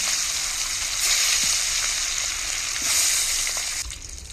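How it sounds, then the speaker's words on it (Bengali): Sarpunti fish frying in hot oil, giving a continuous, fairly loud hiss and crackle that swells briefly a couple of times before easing off near the end. "আমি আবারও গরম তেলে বাকি মাছগুলো ভেজে নেব।"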